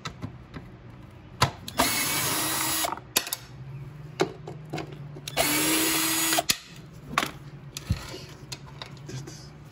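A power tool backs out 3/8 bolts holding the plastic cover on a free Troybilt mower with a Briggs & Stratton 7.25 190cc engine, giving two sustained whirring runs with short bursts and clicks of handling between them.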